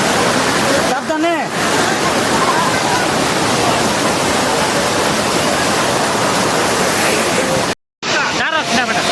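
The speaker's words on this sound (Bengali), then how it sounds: "এই যে দেখুন মায়াবী ঝর্ণা, প্রায় কাছাকাছি এসে পড়েছি ঝর্ণা।" A waterfall roars loudly and steadily, close by, as visitors approach it. The dense rush of water continues almost without a break, with faint voices of people nearby mixed in, and the sound cuts out briefly near the end.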